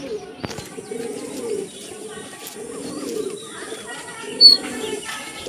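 Punjabi Malwai pigeons cooing in low, repeated rolling phrases at close range, with a sharper chirp and faint bird calls scattered above in a pigeon loft.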